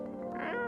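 A single short meow from a cat in the video game No, I'm Not a Human, fairly quiet and drawn slightly upward at the end, heard on its own.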